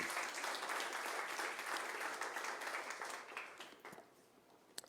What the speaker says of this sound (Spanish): Dámele un aplauso al Señor.